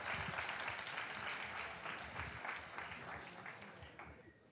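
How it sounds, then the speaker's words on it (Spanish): Audience applause at a Databeers Madrid meetup, a steady wash of many hands clapping at moderate volume that thins slightly toward the end, with faint crowd murmur beneath. "por favor, un aplauso para ellos"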